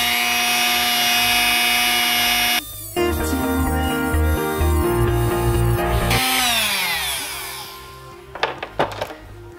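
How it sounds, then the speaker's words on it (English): A Dremel rotary tool cuts a line into a fishing lure with a loud, high whine that drops in pitch as the bit bites into the material, then steadies before trailing off with a few short grinding bursts. "Now I'm just gonna Dremel out that little line right there."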